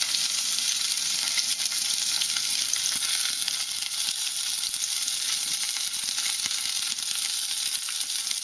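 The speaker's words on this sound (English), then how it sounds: "So I'm going to continue searing this, and I'm going to sear the other side" Beef gyozas searing in a hot pan give off a steady, close sizzle and crackle of frying that runs unbroken throughout, with no voices.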